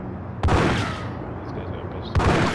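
Uzi bursts in the Max Payne video game, two loud, sharp volleys of rapid fire separated by a short lull, close and dominant.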